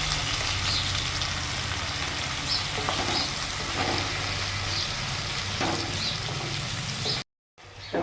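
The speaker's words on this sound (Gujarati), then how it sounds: "તો હવે આપણે વઘાર કરી નાખીએ." Dry spices such as cumin and asafoetida sizzling in hot oil for a Kathiyawadi green chickpea curry tempering, a steady dense crackling hiss with occasional stirring clinks, close and loud, briefly cut off near the end.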